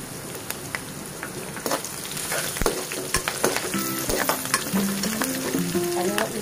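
Curry leaves, red chillies and grated ginger crackle and sizzle loudly in hot oil as a tempering for a vegetable dal, with steady frying hiss and sharp pops throughout and no talk.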